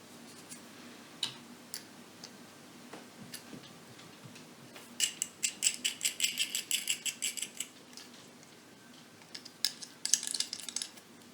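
Scissors snipping material during a DIY crafting session, a quiet series of quick crisp cuts in a rapid rhythm, close and faint, with sparse ticks before and after in an otherwise still room.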